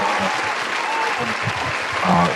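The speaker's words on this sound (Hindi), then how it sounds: "मैं अभी प्रियांशु जी को बुलाने जा रही हूँ, आप सबकी जोरदार तालियों के साथ" Applause from an audience welcoming a speaker at an online product presentation, a steady wash of clapping with some voices mixed in.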